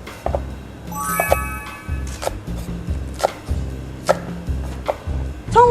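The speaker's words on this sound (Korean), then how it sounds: "여기 청양고추와 대파를 썰어주세요" A knife chops Cheongyang chili peppers and green onion on a cutting board while a Korean seafood doenjang stew is prepared: a steady series of sharp, close chopping strikes, with a faint tonal beep partway through.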